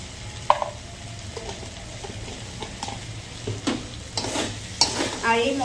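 Tomato masala made with ginger, garlic, pepper and chilli fries in oil after turmeric powder is added, with soft steady sizzling broken by irregular scraping stirs that grow busier toward the end.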